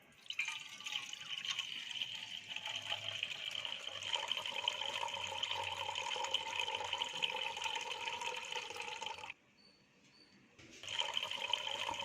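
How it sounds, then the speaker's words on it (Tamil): Water poured off soaked ragi flour into another vessel, a continuous splashing trickle for about nine seconds, then a brief pause before pouring resumes, close and fairly quiet. "இப்போ இந்த தண்ணியை வேறு பாத்திரத்தில் ஊற்றி இன்னொரு 1/2 மணி நேரம் விடுங்க."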